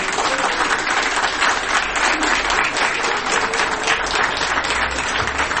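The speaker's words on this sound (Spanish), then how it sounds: "Dale un aplauso a Cristo Jesús, pero fuerte, fuerte." A church congregation applauds loudly for Christ Jesus, a dense, steady roar of clapping that fills the space and holds throughout without a break.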